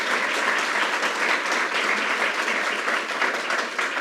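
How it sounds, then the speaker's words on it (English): An audience at a grand opening event held by the Governor applauds warmly. The clapping is dense and sustained and fills the hall evenly from start to finish. "let's give a round of applause"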